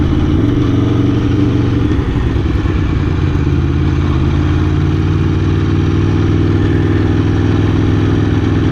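An Aprilia Tuono V4 1100 motorcycle engine idles steadily at a track day, a loud, close, continuous low rumble with a slightly uneven mechanical beat and no voices.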